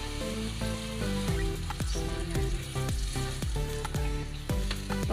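Adobong sitaw sizzling and frying in a hot pan as hot broth from a thermos is poured in, a steady loud crackle with repeated stirring or scraping knocks throughout, no voices.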